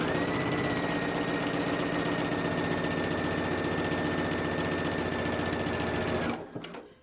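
A sewing machine runs a steady, continuous stitch along the inner leg seam of lounge pants at a 5/8-inch seam allowance, loud and close, then stops abruptly near the end with a few brief mechanical clicks.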